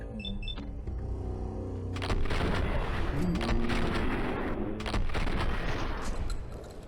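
Shotgun blasts in a first-person video game, heavy broadband bursts repeating over a dense backdrop of game noise and music, loud and continuous with repeated impacts.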